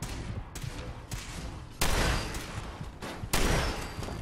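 Shotgun blasts from the game Fallout 4 on survival difficulty, a loud broadband roar of repeated gunfire with two especially heavy booms standing out near the middle and end.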